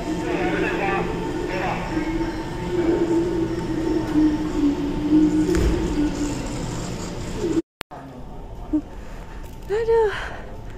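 A passenger train ride, with a steady rolling rumble and rattle from the carriage that continues under nearby voices, then drops out briefly before quieter cabin noise returns.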